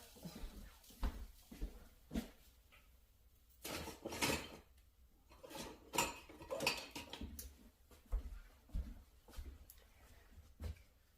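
Kitchen utensils clatter as someone fetches a spatula: scattered faint clinks and knocks come in irregular bursts, with a busier cluster of rattling in the middle.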